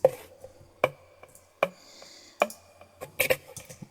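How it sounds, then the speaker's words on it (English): Knife sound effects used as quantized percussion in an electronic music track: four or five sharp, ringing metallic hits spaced evenly, with a denser flurry of clinks near the end over a low background hum. "I've got more knife sounds here."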